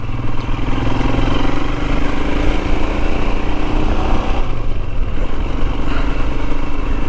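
A Royal Enfield Himalayan motorcycle rides along narrow Cornish country lanes, its engine droning steadily and loud from start to finish, close by, with wind and road rumble mixed in and no talking.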